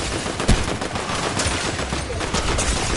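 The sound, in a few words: gunfire in video game Fortnite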